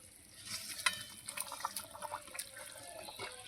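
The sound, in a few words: stirring pangas fish curry gravy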